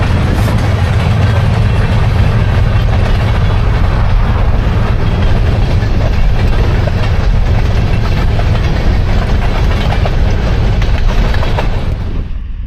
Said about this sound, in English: So now that the train is gone,